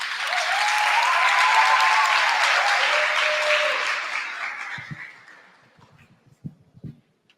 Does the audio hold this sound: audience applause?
yes